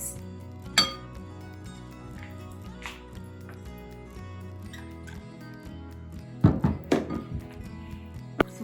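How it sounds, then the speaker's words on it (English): Eggs and pumpkin puree with oil being beaten in a bowl for cranberry pumpkin muffins, with scattered clinks and taps of a utensil against the bowl and a burst of quick knocks near the end. "So we're just going to beat these together."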